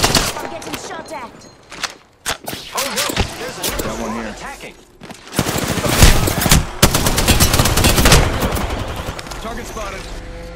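Gunfire in the Apex Legends video game: dense, loud automatic bursts and rapid shots, with a brief lull before a heavier sustained volley, mixed with game effects and a voice talking.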